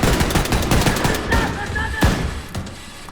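Dense gunfire in Wolfenstein II aboard a submarine, with rapid overlapping shots and sharp cracks over steady loud combat noise.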